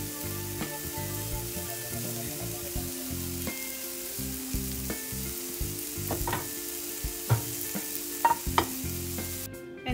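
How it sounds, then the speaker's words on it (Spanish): Chopped celery frying with bacon in a pan for potato soup, a continuous close sizzle punctuated by repeated utensil scrapes and clinks as it is stirred. "Vamos a ponerle el apio, nada más a que agarre el saborcito del tocino."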